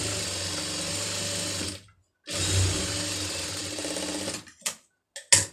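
An electric sewing machine stitching the lining of a puff sleeve, running in a steady whir for nearly two seconds, then again briefly, followed by a few short clicks and handling noises.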